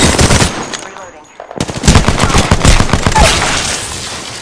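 Automatic gunfire in Apex Legends, loud rapid bursts close by, broken by a short lull before the shooting resumes in dense volleys.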